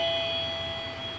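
An ELITEK HT2A infrared doorbell and visitor alarm rings a sustained electronic chime tone, steady and clear at close range for just over a second.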